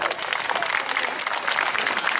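Spectators at the 2022 Guiscriff air show clap for a pilot, a steady, dense burst of applause throughout, heard from within the crowd.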